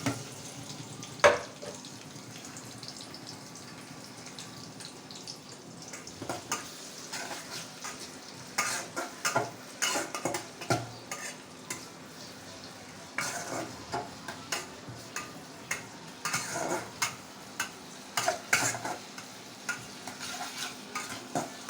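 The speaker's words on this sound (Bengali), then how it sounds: "পেঁয়াজ কুচির তেলে একটু ভাজা ভাজা করতে হবে নাকি?" Chopped onion fries in oil in a cooking pot, a constant low sizzle broken by repeated scraping and clinking stirs of a utensil against the metal, close and fairly quiet, with no voices.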